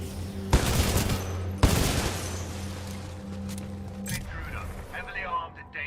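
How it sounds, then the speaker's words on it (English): Enemy gunfire in the Titanfall 2 shooter: two sharp, loud bursts early on, followed by a continuing rattle of shots and clatter under a steady layer of game background noise. "They just open up the doors and they start blasting."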